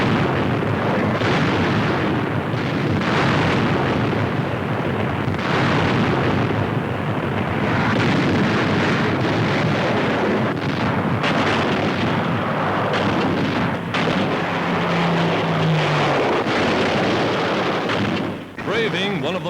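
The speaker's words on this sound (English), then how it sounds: "From 500 feet, they pour incendiaries, then bombs. 300 tons of high explosives right on the mark." Dense, continuous roar of bombs and high explosives bursting on the Ploesti oil refineries after incendiaries are dropped from 500 feet by B-24 Liberators in a 1943 raid, loud and sustained with layered rumbling blasts throughout.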